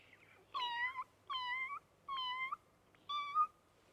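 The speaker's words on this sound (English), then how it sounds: "It's a kitten. And it makes a quiet noise like this." Four soft, high-pitched kitten meows, evenly spaced, each about half a second long, close and clear against a quiet background.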